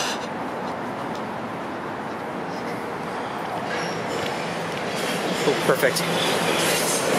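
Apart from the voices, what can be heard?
subway train passing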